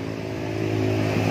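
Yamaha NMAX scooter fitted with an SKR racing exhaust, engine running steadily at close range with a low, throaty drone that swells slightly toward the end, heard alone without talk.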